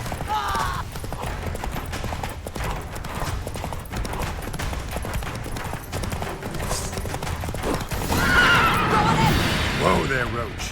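Roach, the horse in The Witcher 3, whinnies loudly early and again near the end, over trotting hoofbeats and a voice in the background.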